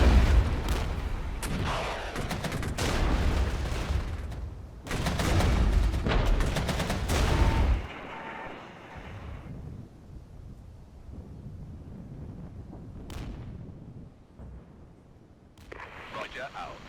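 Artillery fire in the wartime strategy game Regiments: loud booming blasts and rumbling bursts in the first half, then quieter distant thuds and occasional sharp reports, with voices talking over the battle.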